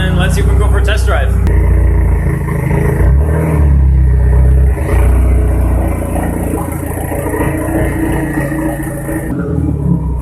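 A Cadillac-style LS2 coil-pack–repaired Big Turbo TT car engine idling steadily and loudly up close, with a low rumbling drone throughout and a voice talking over it early on.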